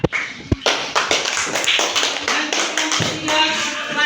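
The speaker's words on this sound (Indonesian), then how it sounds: "kasih tepuk tangan" Claps from a classroom group, a sharp burst at the start and then steady, fairly close clapping with a few louder hits, no talking over it.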